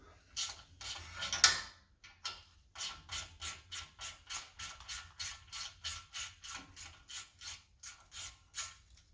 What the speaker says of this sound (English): there's that 8mm head bolt that holds the ABS line in place. We're going to undo.